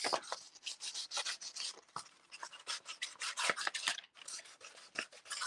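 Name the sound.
sanding edges with sandpaper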